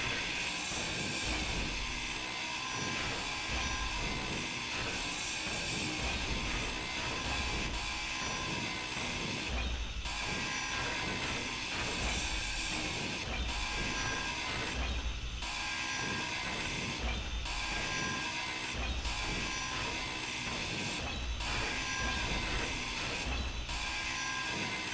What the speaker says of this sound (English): And then we can just grind the rest of it down.